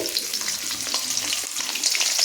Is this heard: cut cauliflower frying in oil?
yes